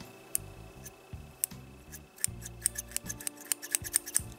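Beard scissors from an IZUKU grooming kit open and close at close range, making a quick series of sharp metallic snips and clicks, with faint blade-on-blade rubbing between cuts in a quiet room.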